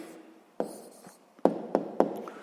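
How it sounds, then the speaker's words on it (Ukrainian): Pen strokes on paper while the answer to a sixth-grade math equation exercise is written out: a few quiet, close scratching strokes with short pauses between them, and no talk. "Записуємо відповідь."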